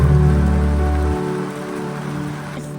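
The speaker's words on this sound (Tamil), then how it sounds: "மழை பெஞ்சா அந்த இடம் எப்படி இருக்குன்னு காட்டுறதுக்காக தான் மழையும் கூப்பிட்டுருக்கோம்." Rain falls steadily on a rooftop swimming pool area in Ella during the rainy season, a continuous close hiss of drops on water and hard surfaces with a low steady hum under it that drops away partway through.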